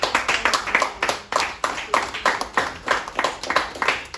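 A church congregation claps in a steady rhythmic beat, many hands striking together in quick regular pulses, close and lively, with no talking over it.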